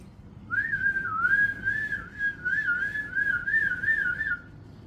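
An old-school stovetop coffee pot whistles to signal the coffee is ready, giving one long, steady, wavering shrill whistle that holds for about four seconds over a low background hum.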